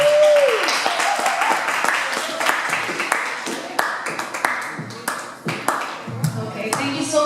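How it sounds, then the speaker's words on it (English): An audience at a poetry performance claps for a poet in a scattered round of applause, with individual sharp claps standing out, and a person's voice runs over it. "can have a big applause for him."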